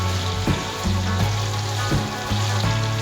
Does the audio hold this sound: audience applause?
no